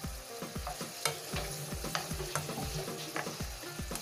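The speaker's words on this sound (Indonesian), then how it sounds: "Tumis dulu biar dia bau" Petai beans sautéing in a pan for a fermented fish dish, a continuous close sizzle cut by rapid rhythmic stirring scrapes and taps, no voices.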